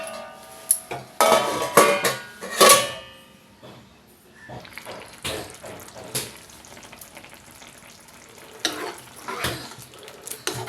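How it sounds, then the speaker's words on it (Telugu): A spoon scrapes and clanks against a pot as vankaya pacchi royalu curry is stirred, with sharp metallic knocks, then quieter shuffling and a few clinks as a lid is handled and set on. "బాగా కలుపుకుని మూత పెట్టి ఉడికించుకుందాం."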